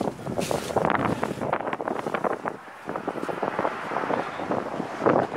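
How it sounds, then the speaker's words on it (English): Gusty wind buffets the microphone outdoors during roof repair work, a continuous rough rumble with irregular bursts and surges throughout, loud and close with no clear talk over it. "this wind's supposed to be tomorrow, not today"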